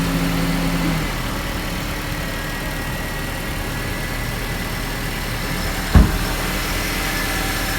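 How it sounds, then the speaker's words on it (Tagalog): Steady car engine idling, a constant low rumble running throughout with no talk and a single brief knock near the end. "Ngayon yung aming sasakyan."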